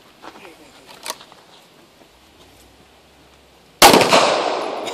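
A 9mm or .40 pistol fires at Sterling Cross Canadian body armour: one sudden, loud, close shot with a lingering noisy tail, preceded by faint clicks and light handling.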